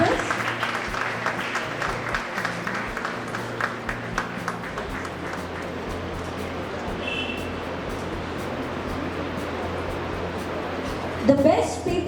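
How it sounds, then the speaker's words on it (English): A seated crowd at a foundation day celebration of an institute claps for research contributors: steady, dense applause that holds throughout and swells briefly near the end. "May I have a big round of applause for the research contributors."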